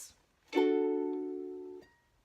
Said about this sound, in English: D should sound like this